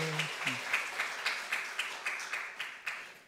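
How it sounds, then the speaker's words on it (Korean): A church congregation claps in welcome during a Sunday worship service, a modest steady run of claps at moderate distance following a brief voice at the start. "우리 서로 환영의 박수, 격려의 박수 인사할 때 드리겠습니다"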